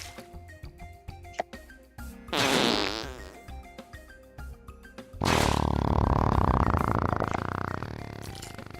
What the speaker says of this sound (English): The fart kill, man. It gets louder every time